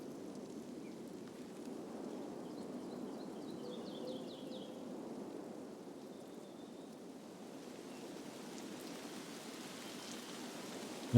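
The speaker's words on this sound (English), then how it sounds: "Okay, this rain is quite loud." Steady rain falling in the video game Escape from Tarkov, a constant broadband hiss that runs alone through the whole stretch without voices.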